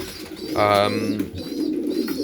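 Young racing pigeons coo in a loft, one clear throaty coo standing out close by over a soft murmur of other birds and shuffling.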